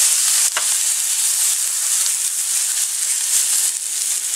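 Scotch fillet steak sears in a hot pan with a steady, loud sizzle and crackle that runs unbroken from start to end, with a brief sharper spike near the beginning and no one speaking.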